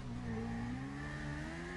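A Dinka Double-T motorcycle engine in GTA Online revs steadily, a droning tonal engine note holding a roughly even pitch, fairly quiet and with no talk over it.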